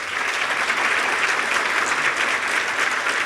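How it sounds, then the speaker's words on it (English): Steady, full applause from a seated audience at a women in business breakfast, sustained clapping throughout with no pauses. "So another round of applause."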